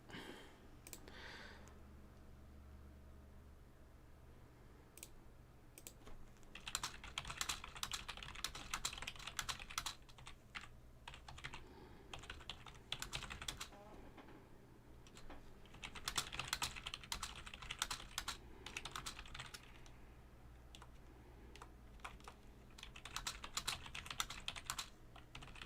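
Fast typing on a computer keyboard during a live-streamed Total War Warhammer 2 tournament, quiet rapid key clicks arriving in several bursts separated by short pauses.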